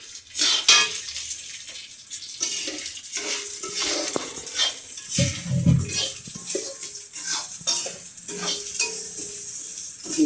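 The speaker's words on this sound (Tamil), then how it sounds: "அதில் நல்லெண்ணெய் சேர்த்து தான் வறுத்துக்கிட்டு இருக்கேன்." Urad dal roasting in sesame oil in a pan for idli podi, with a steady crackling sizzle and repeated scraping stirs of a spoon against the metal pan close by, no talk.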